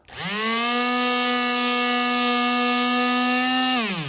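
Power buffer running steadily against a scratched convertible's plastic window, a loud sustained motor whine that spins up, holds evenly for several seconds, then winds down, with no talk over it.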